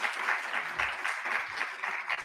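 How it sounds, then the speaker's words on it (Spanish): A lecture audience claps before the talk begins, giving a fairly quiet, steady patter of applause throughout with no voices over it. "Por favor, un aplauso para que iniciemos."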